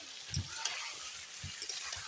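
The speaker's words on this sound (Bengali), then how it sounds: "আলু দিয়ে কিছুক্ষণ নাড়াচাড়া করে তারপরে জল দিয়ে দেওয়া হবে।" Potatoes being stirred into duck meat frying in a pan, with a few soft scraping stirs over a steady close sizzle.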